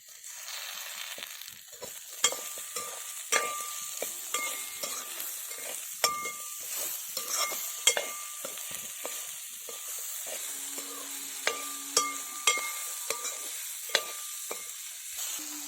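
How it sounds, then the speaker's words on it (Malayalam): Cut potatoes sautéed in a pan for an ivy gourd curry, a continuous gentle sizzle punctuated by repeated sharp clinks and scrapes of a spoon against the pan, close and fairly loud. "ഉരുളക്കിഴങ്ങ് കട്ട് ചെയ്ത് നന്നായിട്ടൊന്ന് വഴറ്റി നല്ലതുപോലെ ഒന്ന് വളർന്ന് വരട്ടെ."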